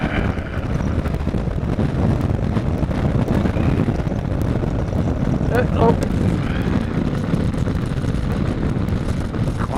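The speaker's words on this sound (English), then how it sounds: "Quite windy on here today." Wind buffets the microphone outdoors, a constant low roaring rumble with gusty fluctuations throughout, and a brief voice exclaims once midway.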